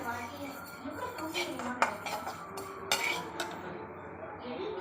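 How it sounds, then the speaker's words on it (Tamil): Whole urad dal being dry-roasted without oil in a pan, with a spoon scraping and clinking against the metal in irregular strokes beneath a continuous speaking voice. "எண்ணெய் ஊற்றாமே வறுக்கணும் நல்லா பொறிஞ்சி வரும் எடுத்துடலாம் கைவிடாமல் கிண்டிக்கிட்டே இருக்கணும்"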